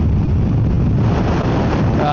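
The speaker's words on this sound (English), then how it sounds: "It's so windy." Steady, loud wind rumble buffets the microphone throughout, a constant low roar with no breaks.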